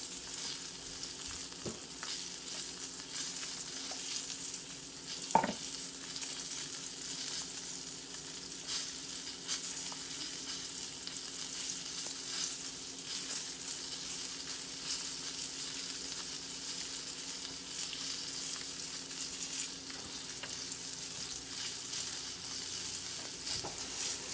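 A pork chop frying in a pan, a continuous steady sizzle and crackle throughout, with a single sharp clink of cookware partway through and no talk.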